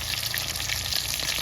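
Tulingan fish sizzles in a pan just after being flipped, giving a brief, dense frying hiss with steady crackle, close and uninterrupted, without voices.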